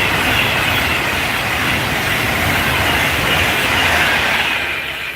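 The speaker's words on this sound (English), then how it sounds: "Here comes the Pendolino." Pendolino train passing at Rugeley Trent Valley station, a loud, steady roar of wheels and rushing air that holds throughout and fades slightly at the end.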